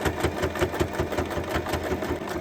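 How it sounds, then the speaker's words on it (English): A sewing machine stitches along the sides of a fabric wallet in a steady, fast needle rhythm, close and moderately loud with no talking. "Now you need to sew the sides about half a centimeter from the edge."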